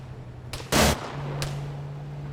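Game gunfire from an M134 minigun in a military video game: a couple of sharp cracks and one loud, dense burst lasting about a quarter second, over a steady low engine hum.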